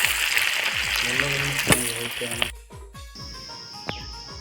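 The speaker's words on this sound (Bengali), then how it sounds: "পেঁয়াজটাকে ভালোভাবে ভেজে নিতে হবে" Steady crackling sizzle of three large chopped onions frying in hot oil, with a voice talking over it for the first half before the frying continues alone.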